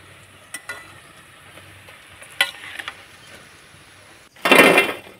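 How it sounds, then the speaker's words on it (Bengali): Jackfruit pakoras fry in oil with a low, soft bubbling, broken by sharp clicks and clatters from a utensil lifting them out. A loud burst of sizzle comes near the end. "এখন আমি তুলে নেব তেল থেকে।"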